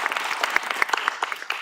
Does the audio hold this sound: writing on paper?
no